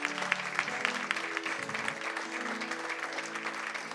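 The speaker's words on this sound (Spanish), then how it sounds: "Vamos a darle un aplauso al Señor por 22 años de fidelidad." A church congregation applauding during a worship service, a warm wash of clapping that holds steady for a few seconds at moderate loudness.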